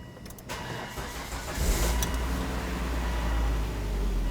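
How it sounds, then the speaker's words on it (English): A 2001-2007 Volvo V70 is started after heater hose work: a brief starter crank, then the engine catches and settles into a smooth, steady idle, recorded close up with no voices. "now, let's go ahead and start the engine."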